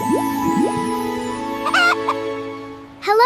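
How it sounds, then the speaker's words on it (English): An animated cartoon chicken clucks in a short series of bright, gliding calls over a steady musical backdrop, with a final louder burst of clucking at the end. "Hello again, brave chicken."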